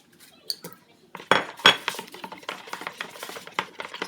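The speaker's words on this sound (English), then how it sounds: "Gently adding the butter." Utensil clinks and scrapes against a bowl as butter is gently stirred into chocolate bundt cake batter, with irregular close taps and rattles of moderate loudness.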